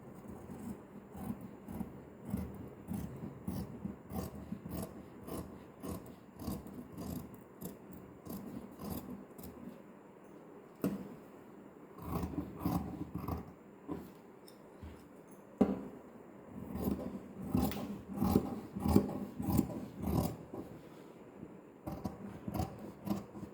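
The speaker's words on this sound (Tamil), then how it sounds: "இப்போ நம்ம இதை கட் பண்ண போகிறோம்" Scissors cutting fabric to make a pot neck, a long run of quick snipping and rustling strokes, close up and fairly soft, with no talking.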